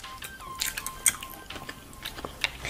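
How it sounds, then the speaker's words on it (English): Crisp, close bites and crunchy chewing of a sour green apple, several sharp snaps followed by wet munching, with a faint high ringing tone underneath and no speech. "I'm gonna try the green apple."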